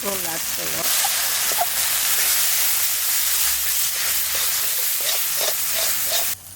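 Spices with turmeric and salt sizzle loudly in a pan for a village-style duck curry with potato, a dense steady frying hiss broken by occasional stirring clatter.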